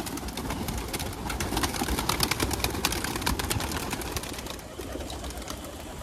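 Pigeons let out of a loft, a steady dense chorus of cooing and fluttering wing flaps filling the space, close and continuous throughout with no talk.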